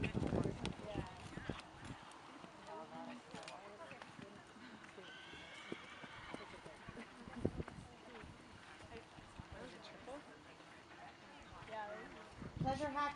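Horses walk in a pleasure hack class at a show, with soft hoofbeats and clip-clop heard faintly and somewhat distant under an announcer and arena chatter, plus an occasional whinny.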